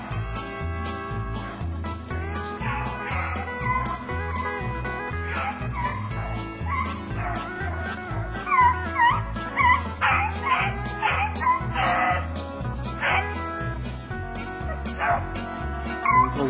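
A pack of beagles bays and yips while hunting snowshoe hare, a continuous chorus of barks and howls at mid distance, growing louder toward the end over a steady low background.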